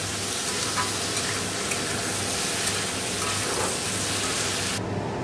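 Cumin powder and spices sautéing in a pan during home cooking of a fish curry, giving a steady, close frying sizzle and stir that holds evenly throughout without voices.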